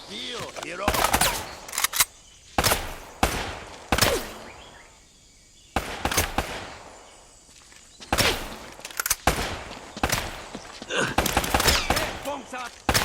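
Uncharted: Drake's Fortune gunfire crackles in loud, close bursts of automatic fire and single shots, separated by short quiet gaps, with some game voices mixed in.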